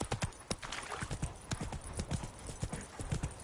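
Hoofbeats of Geralt's horse Roach in The Witcher 3 clatter in a quick, steady galloping clip-clop, close and crisp, with the faint creak and jingle of tack alongside.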